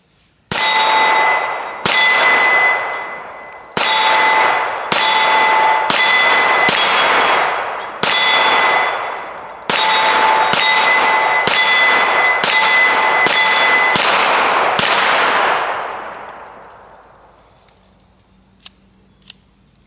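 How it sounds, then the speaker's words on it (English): A CZ Shadow SA single-action pistol fired at steel targets: about ten sharp, loud shots at irregular intervals, each followed by a ringing metallic clang that decays slowly after the last round. "We're going to put a couple rounds down range, just see how she performs."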